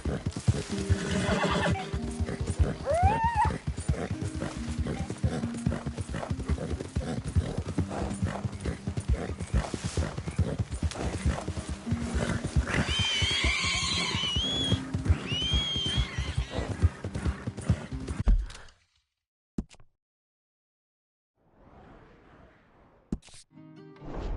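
Horse hooves clip-clop steadily at close range in the video game Red Dead Redemption 2, with several whinnies and neighs breaking through, then the sound cuts to near silence with faint brief noises.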